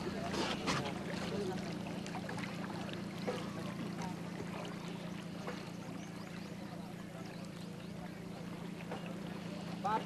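A wooden boat (bangka) moves across water toward an island in the Philippines with a steady engine drone and splashing, while people talk in the background.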